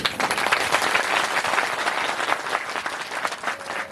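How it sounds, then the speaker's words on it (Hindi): A crowd at a Bhagavat katha religious gathering breaks into dense, steady applause, many hands clapping together at close range for the full few seconds without pause. "सब ने तालियां बजा दी।"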